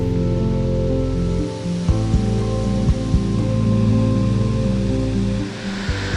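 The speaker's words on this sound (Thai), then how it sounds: "สายฝนที่ผมกังวลอยู่นานก็ถล่มลงมาอย่างหนัก" Steady, dense wash of heavy rain pouring down at Ta Ton waterfall in Chaiyaphum, Thailand, loud and continuous with no voices, a few sharper splashes and knocks breaking through the roar.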